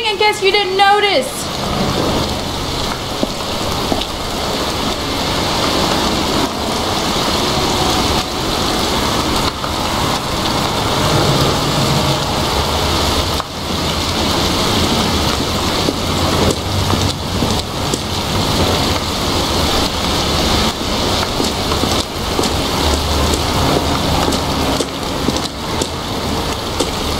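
Heavy rain hisses without pause for the whole stretch of a stormy scene in the video game Heavy Rain, loud and dense, with low rumbling underneath and a short burst of speech at the very start.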